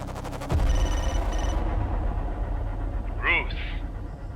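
A phone rings with an incoming call during a Filipino TV drama scene, short electronic ring bursts under a steady low hum, with no speech over the ring.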